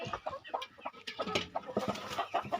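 Native spotted hens cluck near the microphone at a backyard poultry setup, short irregular clucks and murmurs following one another steadily with no talk.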